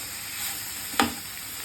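Ivy gourd fries in a pan with chili powder, giving a soft, steady sizzle with a sharper crackle burst near the end as it is stirred.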